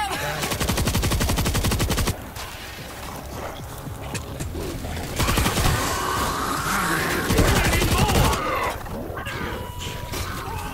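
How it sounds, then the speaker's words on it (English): Heavy, sustained automatic gunfire from the World War Z video game roars almost nonstop in loud, rapid bursts, layered with explosions and chaotic in-game noise. "We gotta shoot!"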